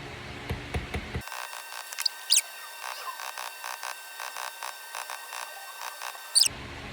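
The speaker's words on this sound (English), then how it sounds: "I'm using just a leather mallet" Soft, rapid taps of a leather mallet on a metal bezel setting an oval garnet cabochon, repeating in a steady irregular rhythm, close and fairly quiet.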